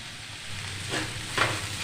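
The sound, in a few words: vegetables with Maggi masala being stirred and fried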